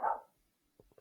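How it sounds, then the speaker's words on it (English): A single dog lets out one short, faint bark indoors, followed by quiet, soft sniffs or small noises. "why are you barking?"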